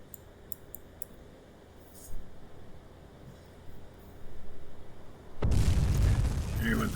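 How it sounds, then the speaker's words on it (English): A torpedoed tanker blows up in the submarine game UBoat: low ambient rumble with small pops, then a sudden loud, broadband explosion that roars on for over a second and stays heavy to the end. "You should blow up this tanker in short order."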